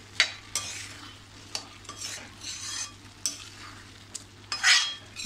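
Reduced milk and grated carrot for halwa being stirred in a pan, with a spoon scraping in several uneven strokes and occasional sharp clinks against the metal over a faint, steady simmer.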